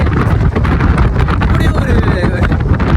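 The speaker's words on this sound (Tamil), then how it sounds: "காற்று தள்ள சரியான பயமாக இருக்குங்க." Strong sea wind blasts across the Pamban bridge, loud, gusting and buffeting right against the microphone with a rough rumbling roar that barely lets up.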